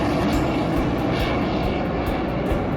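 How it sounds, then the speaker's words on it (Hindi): Indian Air Force aircraft roar overhead in a flypast above India Gate in Delhi, a loud, continuous broadband jet roar that stays steady throughout. "आसमान में गरजते हुए इन विमानों ने भरोसा जताया"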